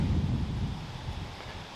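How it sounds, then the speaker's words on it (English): Strong wind roars continuously outdoors during a late-season whitetail deer hunt in West Virginia, a loud, steady low rumble buffeting the microphone for the whole stretch with no other sounds. "it's really windy"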